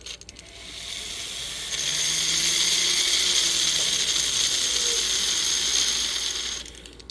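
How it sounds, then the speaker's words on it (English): A metal ring being filed down by hand, a steady, fairly loud rasping scrape that starts after a quiet moment and runs unbroken for several seconds before stopping. "let's file this side down a little bit."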